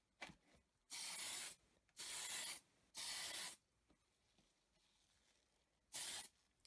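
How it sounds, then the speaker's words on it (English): Four separate hissing bursts of Tamiya fine surface primer white sprayed from a can onto a Majorette No.237 Lamborghini model car, each lasting about half a second to a second, close and fairly loud, with quiet gaps between them. "So for primer, I'm using a fine surface primer white by Tamiya. Just applying the first coat really lightly"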